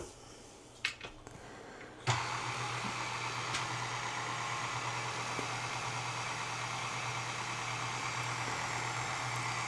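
An electric mixer starts up and runs at low speed blending cake batter with dry ingredients, a steady close whirring hum that continues unbroken after a few clicks at the start.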